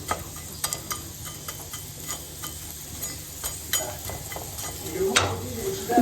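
Potatoes frying in oil in a pan while a Turkish-style breakfast is being made, with a steady sizzle running throughout, some stirring and utensil clicks, and a brief louder burst of frying near the end.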